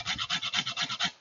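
A lemon rind scraped against a zester or fine grater, about ten quick rhythmic raspy strokes, close and fairly loud, with no talking.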